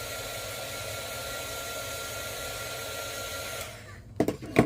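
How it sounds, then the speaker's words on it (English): Heat tool blowing hot air to dry a paper butterfly on a card, a steady, close, loud whooshing roar that cuts off near the end, followed by a few handling knocks. "I'm just going to give this another quick shot here with the heat tool."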